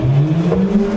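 A Freegônes electric cargo tricycle from Kleuster pulls away on a hill, giving a brief, close motor whine that climbs slightly in pitch as it sets off.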